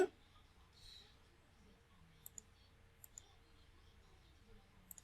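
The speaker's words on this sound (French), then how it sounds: "Je clique sur OK." A few sharp, quiet computer mouse clicks confirming an OK button in pavement design software, scattered singly and in pairs over faint room hiss, close.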